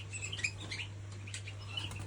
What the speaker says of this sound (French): j'ai quand même pas mal de jolis oiseaux